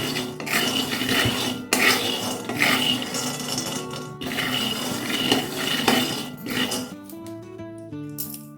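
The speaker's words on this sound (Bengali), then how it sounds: "এখানে আমি কাঁচা চিনে বাদামটা নিয়েছি তাই ভেজে নেবো" Raw peanuts are dry-roasted on a low flame, stirred so they rattle and scrape continuously against the metal pan, loud and close, before tonal music takes over near the end.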